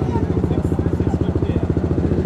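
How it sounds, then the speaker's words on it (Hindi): Kawasaki Z650 motorcycle, a 650cc parallel-twin, rumbling steadily at close range with a fast, even pulsing throb that stays up throughout. "भाई कावासाकी Z6 आ रहा है शायद ना"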